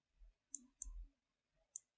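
A computer mouse gives quiet, crisp clicks while modelling in Rhino 3D Grasshopper: two clicks close together, then one more after a short pause, with faint low background noise between them.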